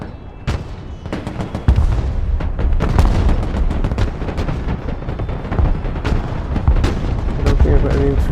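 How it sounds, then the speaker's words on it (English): Booming artillery salvos in the Broken Arrow war game, a run of loud, sharp blasts with rumbling tails firing in irregular succession, mixed with game sounds and a voice. "Artillery ready to fire, sir."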